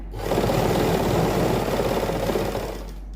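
A sewing machine stitches the side seam of a suit, running in one steady, continuous close-up burst for about three seconds before slowing at the end, with no talking.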